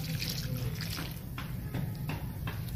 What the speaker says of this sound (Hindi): अभी हम एक एक मग अपने प्लांट्स में डालेंगे।